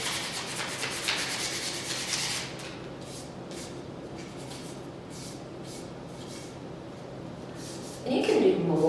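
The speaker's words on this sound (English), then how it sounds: "So you can see I roughed it up just a little bit around the edges here" Sandpaper is rubbed over the edges of a painted picture frame in quick, close, raspy strokes, steady at first and then in short separate bursts, with a person talking quietly.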